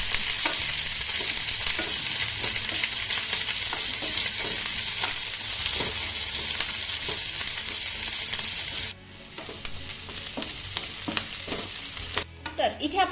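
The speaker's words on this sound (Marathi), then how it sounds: "हा कांदा आपल्याला छान असा हलका सोनेरी रंगावरती परतून घ्यायचा आहे" Coarsely chopped onion sizzles in a pan as it browns toward golden, a dense steady frying crackle with frequent spatula scrapes and clinks, quieting abruptly for a moment before the hiss returns.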